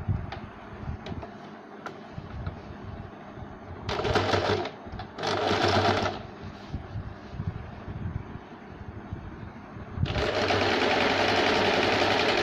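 A sewing machine stitches the side fitting seam of a small A-line frock for a one-year-old, running in three bursts, two short near the start and a longer steady run at the end, with quiet handling between.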